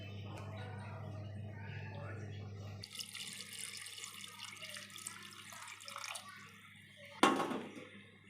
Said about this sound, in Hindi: अब हम इसमें ऐड कर रहे हैं 3 to 4 ग्लास जो है पानी के।